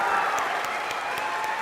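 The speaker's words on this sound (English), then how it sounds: "Can you guys clap it out one more time for our beginners?" A school concert audience applauds a beginning band, a dense, steady wash of many hands clapping throughout, moderately loud and continuous with a faint tonal hum underneath.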